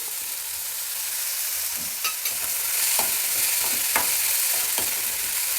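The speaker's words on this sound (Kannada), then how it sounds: "ಒಗ್ಗರಣೆಯಲ್ಲಿ ಕಾಳನ್ನು ತುಂಬ ಹೊತ್ತು ಏನು ಉರಿಯೋದು ಬೇಡ ಸ್ವಲ್ಪ ಬಿಸಿ ಮಾಡಿದ್ರೆ ಎಲ್ಲ ಹೊಂದ್ಕೊಂಡ್ರೆ ಸಾಕು" Lentils being stirred and fried in hot oil for a village-style tempering, a steady loud sizzle with scattered scraping stirs of the spoon against the pan, close up and without talk.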